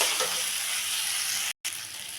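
Fried potatoes and fried bean seeds stirred into cooked-down spiced masala in a pan give a steady, close sizzle with soft stirring scrapes, cut by a brief gap near the end.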